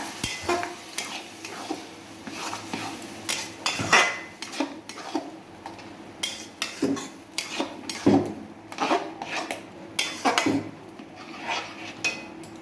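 Boiled tarka lentils being mixed with spices in a pan for dhaba-style egg tarka, a spoon scraping and clinking against the metal pan in repeated strokes over a low sizzle, close and steady.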